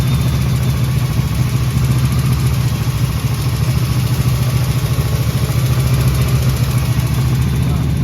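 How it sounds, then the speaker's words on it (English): A Buick Regal engine idles roughly and steadily for the whole stretch, a loud, constant low rumble with a faint clattering texture and no talking over it. "It's running. It don't sound the best"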